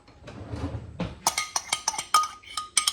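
Metal spoon clinking against a dish while scooping out egg yolks for a retro Thanksgiving recipe, a quick series of about a dozen close, bright clinks and taps after a soft shuffle.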